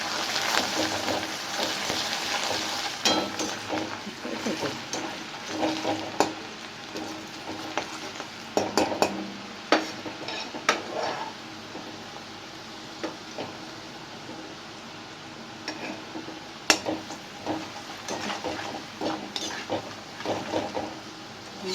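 Onion and nigella seeds fry and are stirred in a pan for a steady close sizzle, punctuated by scraping stirs and occasional clinks.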